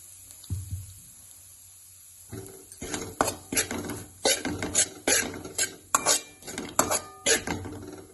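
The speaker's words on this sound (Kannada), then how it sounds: "ಇದೇ ತುಪ್ಪಕ್ಕೆ ನಾವು ಮಿಕ್ಸಿ ಮಾಡ್ಕೊಂಡಿರೋ ಮಿಶ್ರಣ ಹಾಕಿ ಹುರಿಯೋದು" A spoon scrapes and clanks rhythmically against a pan, close and steady, as a ground jackfruit seed mixture roasts in ghee for laddu, with a faint sizzle underneath.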